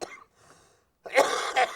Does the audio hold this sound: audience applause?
no